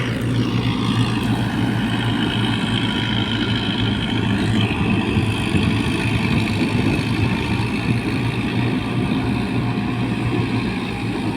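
A tractor-driven straw machine rumbles continuously nearby, its engine droning at a steady pitch with a constant low mechanical roar and no pauses.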